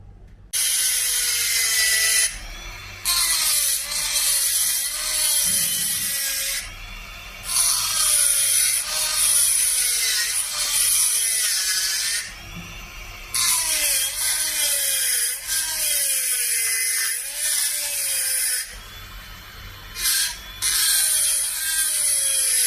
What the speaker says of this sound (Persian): برای شروع ما با مته گلدونی داخل انگشتر رو خالی میکنیم که سنگ داخل قالب بره